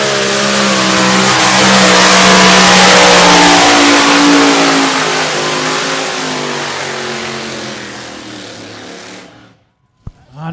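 A pulling tractor's engine roars at a tractor pulling event in Bernay, a loud, close revving that holds strong then gradually drops in pitch and fades, cutting out near the end of the run.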